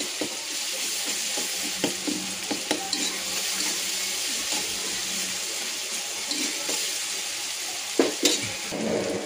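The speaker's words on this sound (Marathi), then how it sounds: "मसाला असा मस्त फ्राय होतोय लवकर" Spice masala frying in a pan for dal dhokli, with a steady close sizzle and crackle broken by sharp stirring scrapes and clinks, no voices present.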